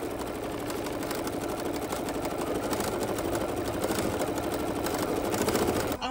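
Embroidery machine stitching an appliqué design on a quilt block: a steady, fast, rhythmic mechanical whirring and tapping that runs unbroken and close throughout.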